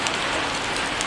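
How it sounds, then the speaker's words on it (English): Steady rain shower during the rainy season on Koh Samui, a dense, even hiss of drops falling on surfaces, continuous and fairly loud with no voices. "It's rainy season here right now"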